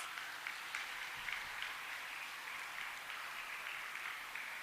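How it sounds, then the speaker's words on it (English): An audience at a school award ceremony applauds steadily, a fairly distant, even crackle of many hands clapping without pause. "So give them a big round of applause."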